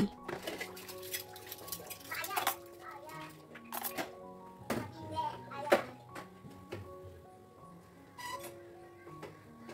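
Dishes being washed in the morning in a rented house kitchen, plates and cutlery clinking and knocking in scattered bursts, close by, with running water and a voice talking at times.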